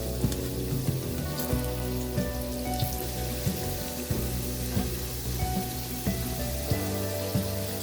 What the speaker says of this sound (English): Lightly fry the pumpkin and potatoes.